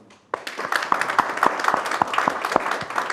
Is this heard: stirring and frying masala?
no